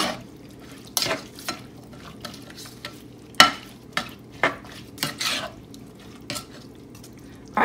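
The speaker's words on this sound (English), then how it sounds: "I'm going to give this a quick stir." A spoon stirs chipotle beans in a pot on the stove, giving a series of sharp clinks and scrapes against the metal over a low sizzle.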